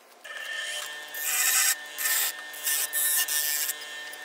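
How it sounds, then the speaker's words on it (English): A sander grinding melted blobs off a surface during an Airstream solar install, a near, loud abrasive rasp that comes in several bursts with short pauses between them. "Should probably hit it with a sander."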